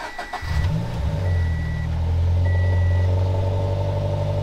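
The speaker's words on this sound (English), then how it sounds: "we're about to do a cold start with the new exhaust" A Scion FR-S engine cold-starts with a new dual-exit exhaust, cranking and catching, then settling into a steady, deep idle rumble close by, with no talking.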